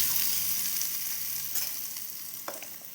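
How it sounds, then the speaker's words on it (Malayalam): Mustard seeds, chillies and curry leaves sizzling and crackling in hot oil for a tempering, a steady bright hiss with a few sharper pops near the end. "കടുകും മുളകും കറിവേപ്പിലയെല്ലാം ഇട്ട് ഒരു വറവും കൂടി അങ്ങ് കഴിക്കാം നമുക്ക്"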